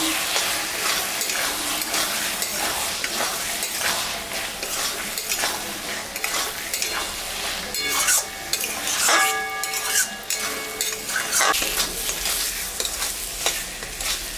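Prawns and shola kochu, a taro stem, frying in a pan while being stirred; continuous sizzling with scraping and clinks from a utensil against the pan, close and steady, with no talk.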